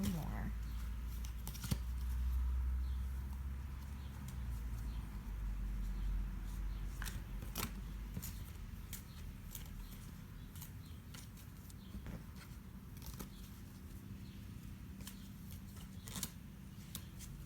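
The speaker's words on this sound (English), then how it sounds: "going to shuffle a little more." A tarot deck of cards is shuffled by hand, giving soft irregular riffles and sharp card snaps at intervals over a low room hum, with no clear talk.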